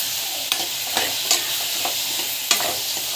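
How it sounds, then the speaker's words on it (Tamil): Asafoetida sautéing in a hot pan with kara kuzhambu ingredients, a steady close sizzle with a few sharp stirring scrapes spaced through it. "நல்லா வந்து வதக்கிட்டுக்கணும்."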